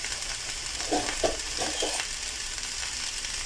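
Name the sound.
hot dogs frying in a pan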